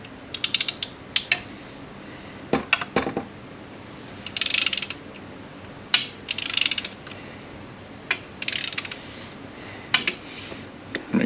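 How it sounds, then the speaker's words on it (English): Adjustment nut on a rebuilt A4AF3 shell being tightened with a ratcheting tool, giving close, irregular clicks and metallic rattles in short bursts separated by brief pauses. "Tighten that adjustment nut down."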